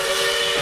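Norfolk & Western 611 steam locomotive whistle, as used in the cartoon Phineas and Ferb, sounds as one loud, steady chord-like blast that lasts the whole brief moment.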